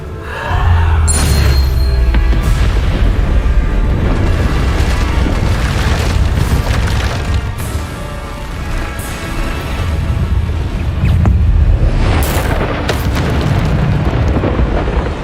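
Bombarda blasting spells go off in Hogwarts Legacy as a run of loud, heavy booming explosions, with deep rumbles and crackling bursts that overlap almost continuously.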